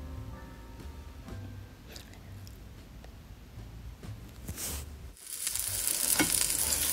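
Eggplant slices frying in a pan and being flipped, a soft sizzle with light scraping taps, then a brighter, louder sizzle as the slices turn, close with no talk.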